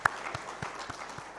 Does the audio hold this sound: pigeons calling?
no